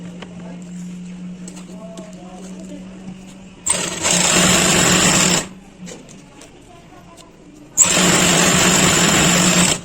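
Sewing machine stitching a pant in two loud bursts of a few seconds each, with quieter handling noise and a low hum between runs.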